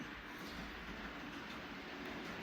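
Steady, low rumble of a model train running along layout track, with faint continuous rattling and clatter at a constant level throughout.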